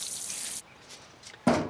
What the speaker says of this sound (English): Then water in with liquid kelp to help reduce transplant shock.